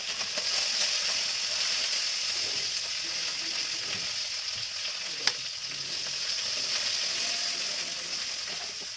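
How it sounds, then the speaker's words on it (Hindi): Mustard oil with okra frying in a pan, a continuous close hissing sizzle that holds steady for several seconds, with one brief sharp clink midway and no voices. "यहाँ मैं ओकरा फ्राई के लिए थोड़ा मस्टर्ड ऑयल डाल दूँगी।"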